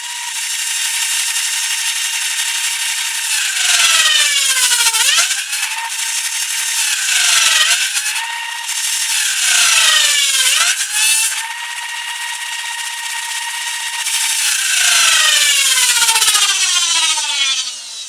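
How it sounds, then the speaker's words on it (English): A fast pusher motor in a blaster build whirs loudly in repeated bursts, each spinning up and winding down with falling pitch, about four long cycles close to the microphone with no talking. "that pusher motor is freaking fast"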